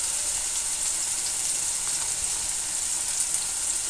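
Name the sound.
eggplant frying slowly on low heat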